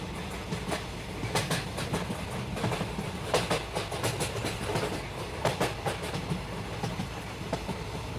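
The Mayurakshi Express passenger train, Howrah to Deoghar, rolls steadily along the rails, its wheels clacking in a repeated rhythm over a constant rumbling drone.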